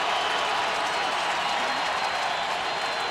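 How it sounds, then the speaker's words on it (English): Fans in the stands at a late-season 2006 New England at Tennessee NFL game cheer and clap in a sustained, even roar filling the whole stretch, distant and diffuse rather than close. "this crowd awakened by the activity"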